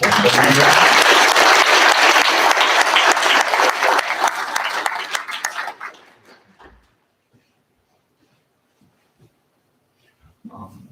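Loud audience applause congratulating a graduate at a learning center graduation ceremony, steady clapping that fades out after about six seconds into near silence, with a brief sound at the end.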